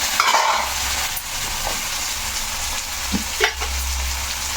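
Tomatoes and garlic fry in hot oil in a pan, a steady close sizzle broken by a few stirring scrapes and small pops, with no talk.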